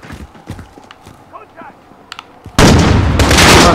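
Loud automatic gunfire in Call of Duty Modern Warfare bursts in abruptly near the end, dense and close, after a quieter stretch of scattered game sounds and faint clicks.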